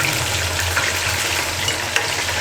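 Chicken frying in hot oil over a medium flame for chilli chicken, giving a steady, close, broadband sizzle and crackle that holds at an even loudness throughout, with no talking.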